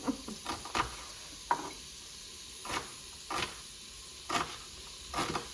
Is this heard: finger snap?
no